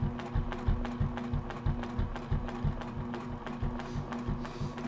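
A sewing machine stitching in the ditch along the seams of a log cabin quilt block, a steady, fast mechanical clatter of needle strokes that continues evenly throughout at close range.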